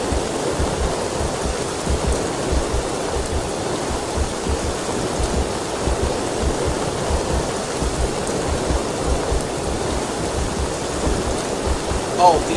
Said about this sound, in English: the intense rain is from the vivid weather mod